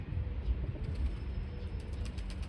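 Pigeons coo softly in a loft of racing birds readied for the flying season, a low murmuring chorus close by with faint rustling, no voices.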